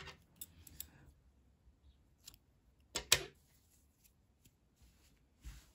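Scissors snipping crochet yarn while making a knitted vest, a few crisp close cuts with soft handling rustle between them, quiet and alone.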